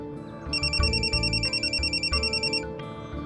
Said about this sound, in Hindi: मैडम जी, आपका फोन बज रहा है।